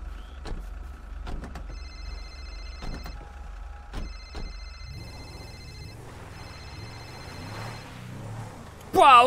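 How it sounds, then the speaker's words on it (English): A phone rings in repeated electronic trills over a low rumble, with scattered clicks and a rising vehicle-like noise partway through. "whose phone's ringing?"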